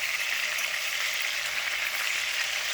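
Meatballs searing in a hot pan, giving a steady, even hiss of frying fat that holds at the same level throughout with no voices over it.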